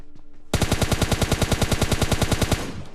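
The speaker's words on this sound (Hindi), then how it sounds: "सामने और बंदों की गन साउंड्स वगैरह आते मेरे को" Rapid automatic gunfire in a video game, a loud burst of about twenty evenly spaced shots fired in quick succession for two seconds before cutting off.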